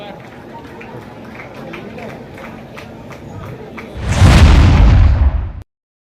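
BJP supporters in Puducherry setting off firecrackers at an election victory celebration. Light crowd noise comes first, then a loud, dense burst of crackling explosions lasts about a second and a half before it cuts off abruptly.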